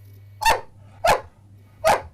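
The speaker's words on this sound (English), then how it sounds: "I've got a dog here." A dog gives three sharp, evenly spaced barks nearby, over a low steady hum in a home setting.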